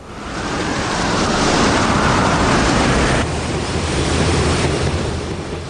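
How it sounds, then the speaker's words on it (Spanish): Heavy hurricane-driven ocean waves surge and crash continuously, a loud broadband roar of surf mixed with wind buffeting, with no voices. "Las olas alcanzan alturas increíbles."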